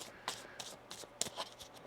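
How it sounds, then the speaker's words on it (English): Tarot cards being shuffled by hand in a quiet room: a few short, soft riffling and slapping bursts spaced irregularly, close and fairly faint, with no voices. "One more shuffle here."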